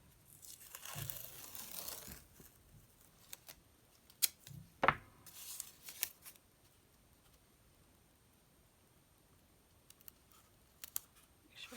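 Masking tape is pulled off the roll with a rough tearing rasp, then torn and pressed onto a board of watercolor paper, giving soft crinkles, a sharp rip and faint taps, close and quiet, followed by near silence.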